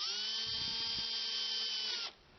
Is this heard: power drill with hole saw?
yes